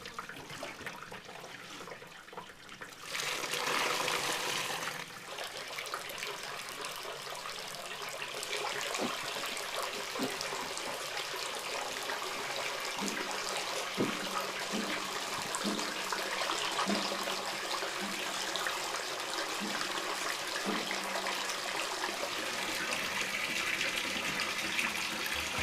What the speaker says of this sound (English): it's strained, all the liquid separated from the curd.